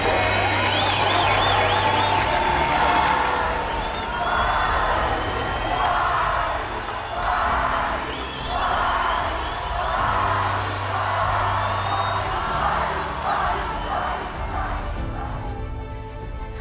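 Crowd applause and cheering at a ceremony as President Hichilema receives a doctoral hood, a broad, steady wash of clapping with occasional whoops, sustained throughout.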